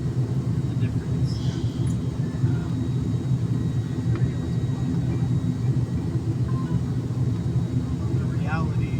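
An airliner takes off from Saidpur Airport, heard from inside the cabin as a steady, heavy engine rumble and roar throughout, with faint voices in the background.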